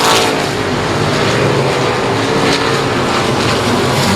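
IMCA stock cars racing at Cotton Bowl Speedway, a dense continuous roar of engines at full throttle, loud and steady with no pauses.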